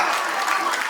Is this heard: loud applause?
yes